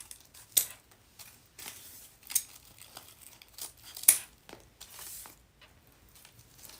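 Ribbon tails are trimmed for a rustic tobacco basket wreath, giving scattered close scissor snips and soft crinkling of ribbon. The cuts come at an irregular pace, fairly faint, with no talking.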